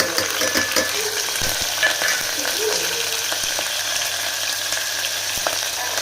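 Green chilies, dried red chilies and curry leaves fry in hot oil with cumin in a home kitchen, a steady sizzle broken by scattered pops and light stirring clinks close up.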